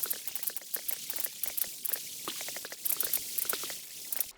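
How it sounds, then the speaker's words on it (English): Water pours in to fill a dug-out sand area in a video game, a steady rushing, bubbling wash with soft splashy patter throughout, moderately loud with no talking. "we now get to watch get filled in by this water"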